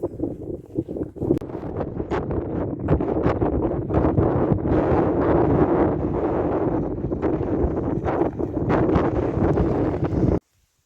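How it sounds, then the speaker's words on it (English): Strong wind buffets the microphone on the exposed South Dorset Ridgeway near Hardy's Monument, a loud, continuous roar with gusting surges throughout and no voices, cutting off abruptly at the end. "it was just much too windy up there to talk"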